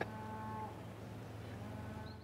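A cow lowing near a carp-fishing lake, a low drawn-out moo heard quietly against calm outdoor background, no voices.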